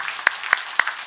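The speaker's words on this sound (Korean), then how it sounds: "우리 부모님들과 자녀들 위해서 한번 박수 한번 하겠습니다" Applause from a church congregation during a Sunday worship service: four sharp, evenly spaced claps ring out clearly in a quiet room.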